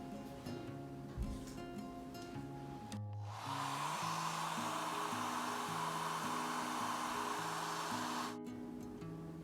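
A hair dryer blowing on watercolor paint to dry it, switching on after a few seconds and roaring steadily and loudly for about five seconds before cutting off, with soft background music around it.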